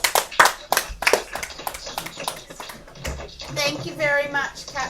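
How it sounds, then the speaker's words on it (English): Boys and girls clapping at a school assembly, a scattered burst of sharp hand claps over the first seconds, then fading as a voice speaks. "Give those boys and girls a round of applause."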